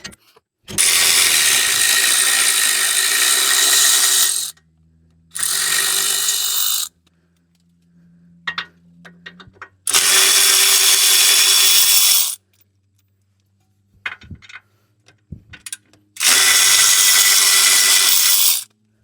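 A power tool works on the lower ball joint bolts of a Toyota RAV4 during a wheel bearing replacement, giving four loud, sustained whirring bursts separated by quiet pauses with small clanks of handling.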